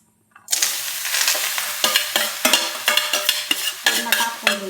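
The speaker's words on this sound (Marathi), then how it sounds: "आपण त्याच्यात आता डाळ टाकून घेऊया." Chana dal tipped into a hot kadhai hisses suddenly, then sizzles loudly while a spatula scrapes and stirs in rhythmic strokes, close up with no speech.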